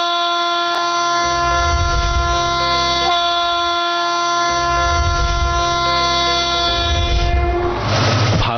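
A freight train on an Indian Railways dedicated freight corridor rumbles past with a loud, sustained multi-tone horn blaring for most of the stretch, heavy wagon rumble underneath, ending in rough clattering noise.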